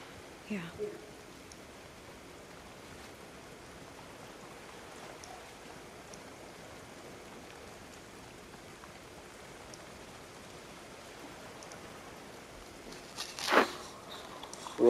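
Rain falling in The Last of Us Part II, a continuous low patter and hiss of water, with a few sharper close sounds near the start and a louder burst near the end.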